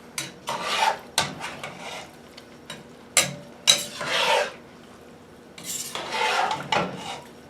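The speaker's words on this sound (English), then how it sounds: "I'll stir them in and see if that's enough." Thawed peas are stirred into beef barley soup in a cast iron pot, making repeated rasping scrapes of a spoon against the iron in irregular close bursts separated by short pauses.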